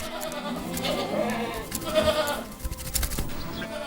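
Sheep bleating in a livestock setting in winter in Hexigten, Inner Mongolia, several overlapping calls rising and falling, with background rustling and movement.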